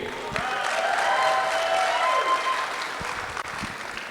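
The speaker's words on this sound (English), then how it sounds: "So give yourself a round of applause." Wedding reception guests applauding, a warm sustained round of clapping with faint cheering and whistles, gradually easing off toward the end.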